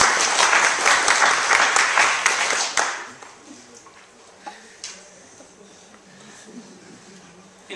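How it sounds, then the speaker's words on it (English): Group of audience members clapping on cue for a few seconds at a speech event, loud dense applause that stops abruptly, followed by quiet room tone with a few scattered claps. "Whenever I show this, you have to clap."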